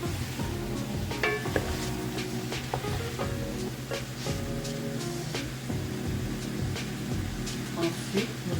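Fried plantains tumble into a pan of sizzling chicken for poulet DG and get stirred, with a steady frying hiss under clinking utensil scrapes and pan knocks, close and continuous.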